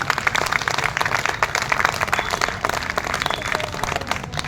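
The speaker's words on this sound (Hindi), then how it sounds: "अपने लिए हाथ उठा करके ताली बजा के स्वागत करेंगे।" Audience applause at a public meeting held in protest against privatisation, a dense, loud, continuous clatter of many hands clapping together throughout, with no speech over it.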